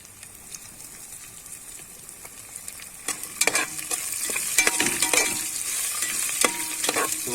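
Jeera and green chillies frying with cinnamon in oil, a quiet sizzle that swells into louder crackling halfway through, with repeated spatula scrapes and stirring clatter close by.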